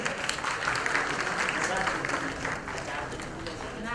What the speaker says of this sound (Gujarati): ખૂબ તાળીઓથી વધાવી લઈએ આપણે